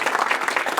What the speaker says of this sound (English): let's have a nice round of applause for the trainer